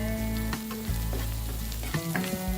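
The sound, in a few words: masala powders frying in pan with onions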